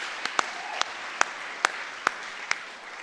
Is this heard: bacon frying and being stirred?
no